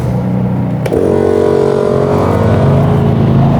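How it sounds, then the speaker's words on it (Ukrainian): An air compressor kicks in on a Kraft&Dele KD186 generator, a sudden loud click followed by a steady, close mechanical drone with a throbbing motor hum that holds to the end. "вмикаємо компресор"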